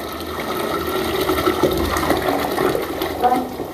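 Water pours in a steady, splashing rush into a pot, continuous and fairly close for the whole stretch.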